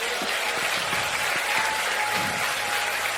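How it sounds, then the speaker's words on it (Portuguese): A church congregation applauding during a sermon, sustained crowd clapping with a few scattered cheers and voices mixed in, loud and continuous throughout. "Aplauda o Senhor por isso."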